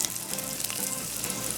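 Onions sizzle and fry steadily in a hot pot for a Trinidad-style vegetarian curry, a dense close crackling hiss with no talking over it.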